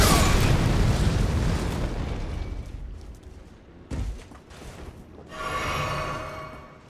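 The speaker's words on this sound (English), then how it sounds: "No, he's gonna explode" An enemy explodes in a video game: a loud, rumbling blast that fades over a few seconds, followed by a short pop and a softer hissing burst.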